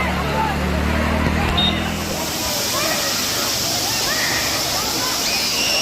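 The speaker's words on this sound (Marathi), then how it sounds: "हा बघा हा असा धबधबा वॉटरफॉल" The main Jummapatti waterfall at Matheran gives a steady broadband rush of falling water, heard close and loud, with people talking and a crowd babbling over it.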